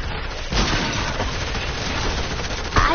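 Rapid gunfire in a zombie horde video game: a dense, continuous burst of shots and booms that fills the whole stretch, loud and close, with no clear talk over it.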